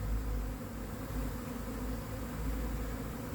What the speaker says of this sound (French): Là, c'est un bel essaim, pas mal.